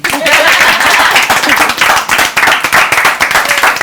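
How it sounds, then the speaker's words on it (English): A studio audience claps for TV3 on the Perfect Match Xtra show, dense continuous applause of many hands, loud and close, holding steady throughout. "please, let's clap for TV3"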